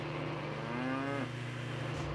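A cow lets out a single drawn-out moo over a steady low hum on a farm in the video game Nancy Drew: Trail of the Twister, fairly faint and alone.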